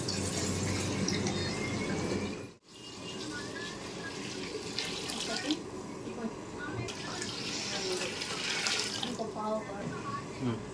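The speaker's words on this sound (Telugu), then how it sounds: "రెండు గిన్నెల నీళ్ళు పోస్తున్నాం" Water pours and splashes steadily into a cooking pot for prawn and basmati rice pulao, a continuous rushing stream with a momentary break near the start.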